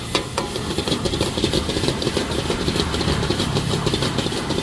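Stir-frying Thai holy basil stir-fry (pad kra pao) in a Chinese wok at a street stall in Khon Kaen, Thailand: steady sizzling with repeated scraping and clanking of a utensil against the pan, close and continuous, with an engine-like hum behind.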